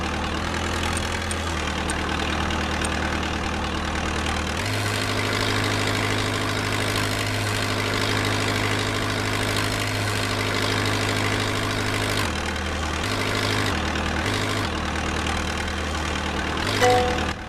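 Forklift engine idling in a virtual reality training simulation, a steady low droning rumble that shifts to a slightly different pitch partway through, continuous and close.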